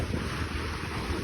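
Strong wind buffets the microphone as waves surge on the open sea off the Norwegian coast, a loud, steady broadband roar with no pauses for 1.3 seconds.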